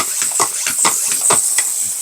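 A hand pump sprayer misting water onto fresh living soil, giving short hissing bursts in a quick irregular series, close and fairly loud, with no talk.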